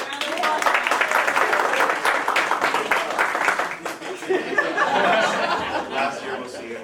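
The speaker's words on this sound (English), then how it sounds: "So, round of applause." An audience applauding at a SECME generator training session, a burst of clapping for several seconds mixed with chuckles and chatter before fading under murmuring voices.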